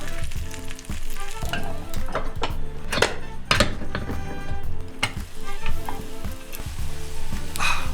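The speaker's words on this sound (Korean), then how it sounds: "팬에 버터 올리고 앞뒤로 뒤집어가며 또띠아를 이분하게 구워주세요." Loud, steady sizzling of a tortilla frying in butter in a pan, with occasional clinks and scrapes of a utensil against the pan.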